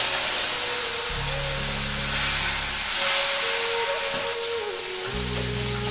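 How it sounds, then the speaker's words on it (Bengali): Fish hit hot oil in a pan and set off a loud, sustained hiss and sputter close by, with a low hum underneath that comes and goes. "তেল গরম হয়ে গেছে, মাছগুলো দিয়ে দিই"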